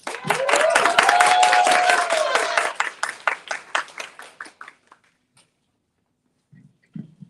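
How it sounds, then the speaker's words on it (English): A conference audience at a women veterans event bursts into a big round of applause for a panelist, loud and dense at first, then thinning into scattered claps that fade out into quiet, with a faint sound just before the end. "Let's welcome her with a big round of applause"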